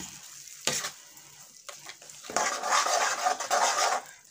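Tomato pickle being stirred in oil in a pan: close scraping and clinking of a spoon against metal, with sizzling, coming in irregular bursts that grow louder and more continuous toward the end.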